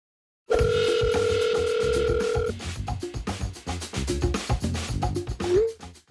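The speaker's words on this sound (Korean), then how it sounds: "그래서 제가 직접 전화를 최원일 전 함장께 걸어봤습니다" An outgoing telephone call begins with a loud, steady ringback tone lasting about two seconds, then gives way to busy, rhythmic musical sound with clicks and chimes that continues to the end.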